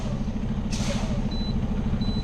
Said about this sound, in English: the low air warning just came on